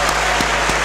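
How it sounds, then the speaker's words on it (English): Students at a university alumni lecture applaud together, a dense steady clatter of many hands with a few louder individual claps standing out at regular intervals. "you deserve the biggest applause"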